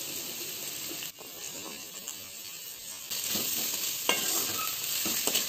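Okra frying and being stirred with small onions and curry leaves in a kadai, a soft steady sizzle with occasional scraping stirs of the spoon against the pan, close and fairly quiet, with no talking.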